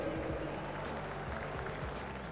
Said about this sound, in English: Big round of applause for Julie!